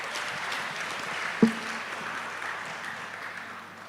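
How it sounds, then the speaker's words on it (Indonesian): Steady audience applause fills the room at an investment talk, a dense, even wash of clapping with one sharp knock partway through, holding at constant strength before thinning slightly at the end. "kita beri aplaus lagi untuk jawaban beliau"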